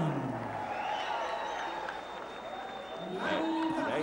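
A capacity crowd at the Mandaluyong City Sports Complex cheers and applauds after Manny Pacquiao's fifth-round knockout win for the flyweight title in 1999, a steady roar of jubilation heard under a commentator's voice.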